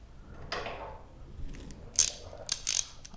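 Ratcheting wrench snugging acorn nuts on LED flare light mounts during a motorcycle fairing install, short bursts of sharp metallic clicking close by with quiet pauses between.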